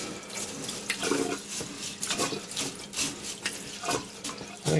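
Tap water runs steadily into a sink while sushi rice is rinsed to wash out starch, splashing and swishing unevenly throughout, close and continuous, with no voices.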